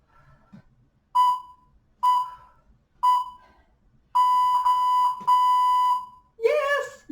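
A workout interval timer sounds three short electronic beeps about a second apart, then two longer sustained tones, loud and clear in a quiet room, ending with a brief voice.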